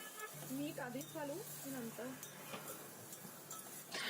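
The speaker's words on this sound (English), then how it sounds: "mix everything well so that the vegetable nicely get coated with the fodni or the bagar." Flat beans (val papdi) stirred into a spiced oil tempering in a pan: soft continuous scraping and sizzle with a few light metallic clinks, quiet and close, with a faint tonal voice-like sound early on.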